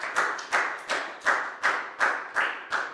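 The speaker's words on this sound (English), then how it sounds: "High five and a big round of applause for Lakgao" A small classroom group claps in a steady, slow unison rhythm, about eight sharp, evenly spaced claps that sound close and clear, with no talking.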